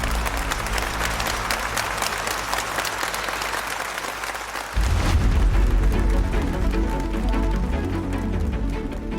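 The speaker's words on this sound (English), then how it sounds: "a big round of applause for Mike Kessel" Studio audience clapping for Mike Kessel, a sustained, even round of applause from a crowd that swells slightly louder midway and carries on to the end.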